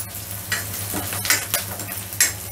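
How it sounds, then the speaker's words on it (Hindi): Chopped onions stirred and fried in hot oil for a halwai-style potato curry, a steady sizzle with a few scraping stirs of a spoon in the pan, close and fairly loud with no talking. "प्याज को हमें गोल्डन ब्राउन होने तक भूनना है"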